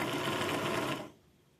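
A sewing machine's bobbin winder spins a class 66 bobbin, a steady close whirring hum lasting about a second before it cuts off abruptly, leaving only a faint residual whir.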